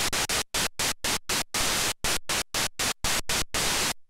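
Korg Minilogue hi-hat pattern synthesized from the noise generator with the oscillator removed, a rhythmic series of sharp bursts of hissing noise with short silent gaps, played alone and fairly quiet.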